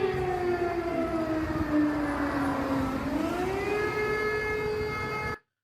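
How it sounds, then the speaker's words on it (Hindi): A loud air raid siren in war-torn Ukraine holds its tone, dips and then rises again before cutting off abruptly. "ये एयर सायरन्स ये बज रहे होते हैं"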